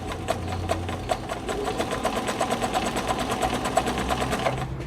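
A New Home 702 sewing machine stitches a stretch stitch with a rapid, even mechanical clatter and a motor hum, running close and steady without speech.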